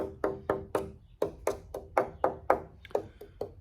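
A series of light, hollow taps on the soundboard of a curly maple dreadnought guitar under construction, about a dozen evenly spaced knocks, each with a short resonant ring, close and fairly quiet.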